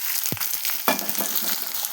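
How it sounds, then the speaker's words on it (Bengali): Onion frying in hot oil with garam masala in a home kitchen while preparing a goat meat curry; a steady close sizzle with a few sharp stir-like clatters and crackles. "আগে আমি পেঁয়াজটা সুন্দর করে ভেজে নেব"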